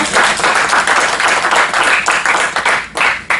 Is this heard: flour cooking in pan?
no